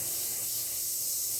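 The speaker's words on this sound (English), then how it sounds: "We'll shoot this until we get our gold to spray in." Wicked Metallic Gold paint sprayed onto a crankbait for a crackle bass pattern makes a soft, continuous hiss that holds steady for the whole moment, close and alone.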